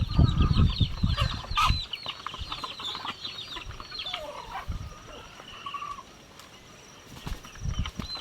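A chicken at a fishpond farm clucks and squawks in short, scattered calls near and far, with loud rustling and flapping at the start and end and a faint high tone running underneath.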